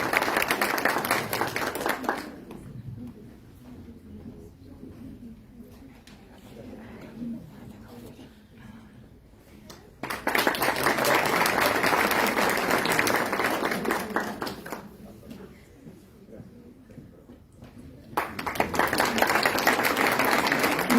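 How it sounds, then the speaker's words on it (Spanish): Audience applause at the first stage of an annual oratory contest held by a superior court, two broad bursts of clapping separated by quieter stretches with some voices. "Todos aplausos para ellas,"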